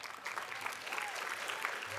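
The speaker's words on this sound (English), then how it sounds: "yes, please clap" A crowd at a State of the City address gives steady, moderately distant applause, a continuous wash of many hands with a faint voice underneath.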